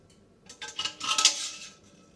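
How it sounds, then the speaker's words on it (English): A magnetic lid gripper lifts metal canning lids out of hot water, giving a brief cluster of light metallic clinks and scrapes, quiet and close, with no talking. "We will use our magnetic lid gripper to remove the"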